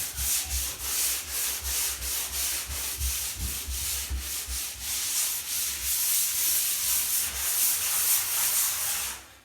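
Sandpaper lightly rubs back and forth over a wooden floor in a steady rhythm of scratchy strokes, close up, with no talking.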